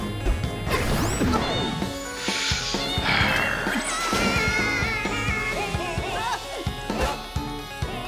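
A horse enemy in Cadence of Hyrule neighs amid rhythmic game music, with crashing hits and whooshing attacks around it.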